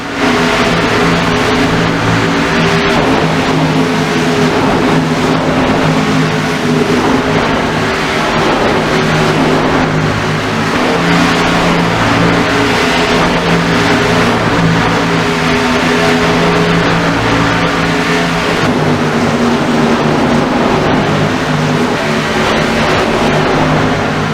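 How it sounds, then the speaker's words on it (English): Race car engines roar at Dover during a stock car race, a loud, unbroken drone of several engines revving and passing close by for the whole stretch, with no talk. "We are going to let you hear these engines roar"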